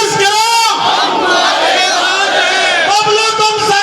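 A crowd at a civic felicitation ceremony in a market chants a slogan in unison, loud rhythmic shouted phrases repeated close by, with a lead voice calling out between them.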